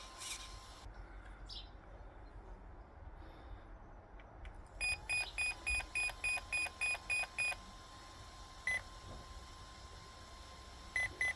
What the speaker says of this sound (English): we're holding down the set button until we get to 7, which should be 1 long beep and 2 small